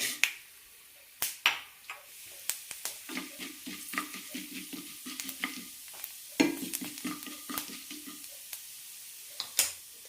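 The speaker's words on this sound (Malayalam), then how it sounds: "കടുക് പൊട്ടിയിട്ടുണ്ടെങ്കിൽ ഇതിലേക്ക് ഉഴുന്നിടാം" Crackling pops and sharp spitting bursts of mustard seeds and urad dal frying in hot oil, irregular and close, with stirring scrapes between them.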